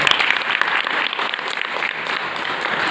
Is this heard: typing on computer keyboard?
no